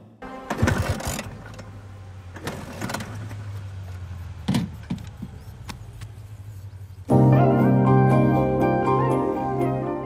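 An old motorbike engine is kicked over a few times, sputtering and dying, then catches and settles into a loud, rattling idle.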